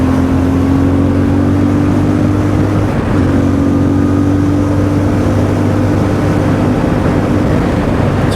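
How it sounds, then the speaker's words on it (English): A CF Moto 450MT motorcycle engine drones steadily while riding, a loud continuous mid-low hum with shifting tonal lines and constant wind rush, briefly dipping around a gear change, no voices. "There's loads of power in this little bike."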